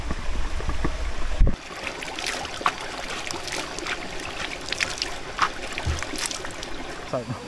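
Water from a flowing mountain stream on a forested hiking trail splashes and trickles as hands scoop it up for face washing, a close, steady babble with intermittent splashes.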